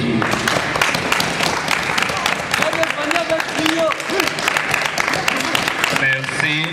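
An audience at a theatre performance applauds in a dense, continuous patter of many hands, close and fairly loud, while a voice speaks over the clapping.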